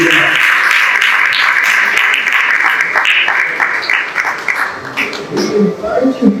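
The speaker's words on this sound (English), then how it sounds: "Can I have another round of applause?" An audience at a Harambee talk claps in sustained applause that fades unevenly toward the end, with voices audible over it.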